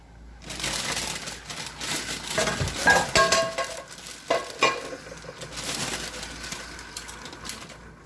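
Metal spoon stirring a morning cup of coffee, with quick clinks and scrapes against the mug in a few short bursts, mixed with faint kitchen noise.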